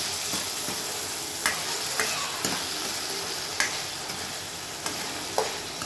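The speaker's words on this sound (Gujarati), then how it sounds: "હવે આને બરાબર આપણે સાંતળવા દઈશું" Tomatoes and green chili sauté in a pan with a steady, close sizzle and occasional sharp spatula scrapes and taps against the metal, and no voices at all.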